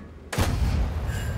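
Enemy artillery lands a hit in a tank video game: a sudden sharp blast breaks in after a brief quiet and trails off into a rumbling decay, loud and close.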